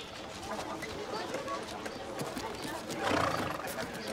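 A horse neighs with a rising whinny near the end of a steady, busy backdrop in a film set among ancient Gauls and druids, with murmuring voices and movement throughout.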